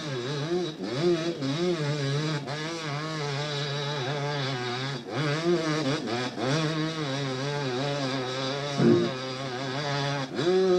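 An engine runs with a buzzy, harmonic drone whose pitch repeatedly swoops up and down, steady and moderately loud throughout.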